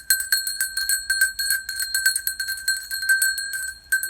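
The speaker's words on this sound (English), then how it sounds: "And so he's saying, ring the bell." A small bell rung rapidly and continuously, bright metallic chiming with steady repeated strikes and a ringing sustain, loud and close with no talking.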